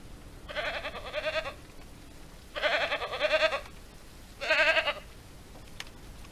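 Three separate goat bleats in Ranch Simulator, each about a second long, spaced evenly apart against a quiet background. The bleats have a game-like, synthetic quality.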